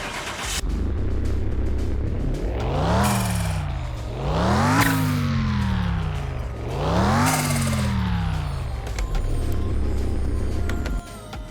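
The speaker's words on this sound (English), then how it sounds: "start the car." A car engine in a mechanic simulator video game starts and revs repeatedly, rising and falling pitch in three big surges over a steady idle rumble, loud and close.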